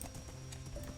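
Hooves of a zombie horse clop in a Minecraft-style game, a brief run of soft, muffled steps under a dense game background.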